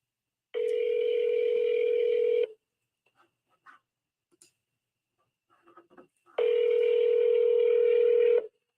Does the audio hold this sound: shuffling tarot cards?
no